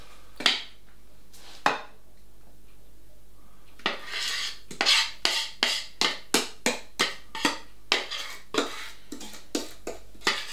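A spoon scraping and tapping against a bowl as chocolate pudding mixture is transferred into a slow cooker, with a rapid series of sharp clinks, close and loud, and no talking.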